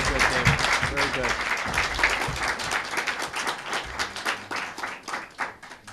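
An audience at a community access television annual meeting applauds for David Moyensen, with steady, dense clapping from a room full of people that tapers off, and voices talking over it.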